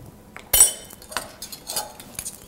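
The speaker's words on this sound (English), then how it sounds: "Once we get the honey in there, we're just going to whisk that slightly" Quick light clinks of a whisk against a bowl while honey, vinegar and olive oil are whisked into a dressing, a few sharp taps with gentle scraping between them, close by.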